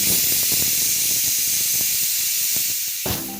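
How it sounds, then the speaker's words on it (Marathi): A pressure cooker cooking masoor dal releases a loud, steady jet of hissing steam through its whistle for about three seconds, then cuts off abruptly into quieter kitchen background. "आता यावर आपण झाकण लावून द्यायचं आहे कुकरचं आणि याच्या 2 ते 3 शिट्ट्या काढून घ्यायच्या आहे"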